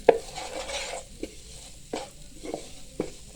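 A spoon stirs samosa filling with fresh coriander in a pan, giving a handful of scraping strokes and light knocks over a faint sizzle, close and quiet with no speech.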